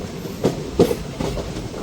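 The Kalka-Ambala Cantt passenger train rolls along with a steady rumble and a few distinct clickety-clack wheel thumps over rail joints, heard from on board.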